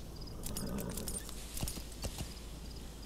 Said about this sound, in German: Pferd.